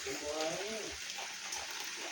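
Morning rain falls as a faint, steady hiss, with a voice speaking briefly over it.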